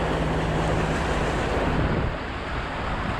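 A sailboat races through waves in a 21-knot wind, with steady loud rushing water and wind roar pressing on the microphone, close and continuous.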